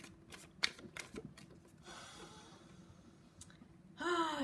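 A deck of tarot cards being shuffled up close with soft flicking and sliding, followed by a brief longer rustle at the end, with no one talking.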